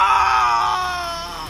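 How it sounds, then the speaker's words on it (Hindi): A man lets out a loud, drawn-out scream of pain, alone and close, sustained and slowly fading. "जब उससे दर्द सहन नहीं हुआ तो उसके मुंह से जोर से चीख निकली।"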